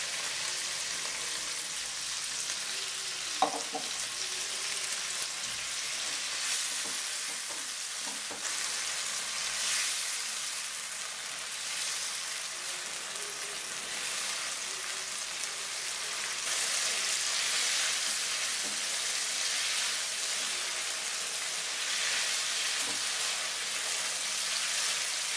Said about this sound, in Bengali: সামান্য পরিমাণ জল দিয়ে মশলাটাকে কিছুক্ষণ কষিয়ে নেব।